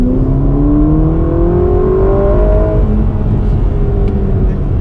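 Ferrari Roma accelerating on a short straight, a loud, steady engine note climbing smoothly in pitch as it pulls through the revs, heard close and continuous from inside the car.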